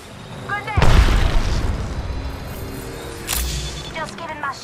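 A grenade detonates in a shooter game, a loud booming blast with a rolling rumble that fades over a couple of seconds, followed by a second, smaller burst, while voices talk over the action.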